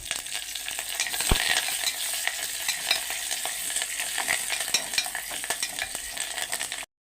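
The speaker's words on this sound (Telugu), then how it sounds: "ఇప్పుడు ఇందులోకి కరివేపాకు, ఎండుమిర్చిని వేస్తున్నానండి." Curry leaves and dried red chillies sizzle and crackle in hot oil with frying onions, a steady bright hiss running throughout with occasional louder pops and spatters, close up and without voices.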